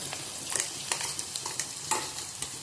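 A ground green paste with curry leaves is sautéed in a pan for a green moong amti. A soft sizzle runs throughout, with a spoon scraping the pan in short, irregular strokes, fairly quiet and with no voices.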